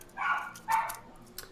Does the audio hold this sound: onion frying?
no